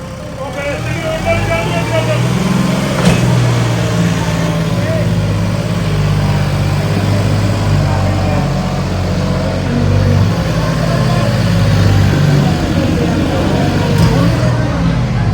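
A John Deere 4x4 tractor engine runs steadily at a low, droning idle throughout, close by and fairly loud, with a couple of faint metallic clicks and people talking over it.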